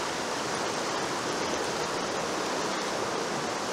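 A shallow creek with deeper pools runs steadily, a broad, even rush of flowing water that stays close and constant throughout, with no voices.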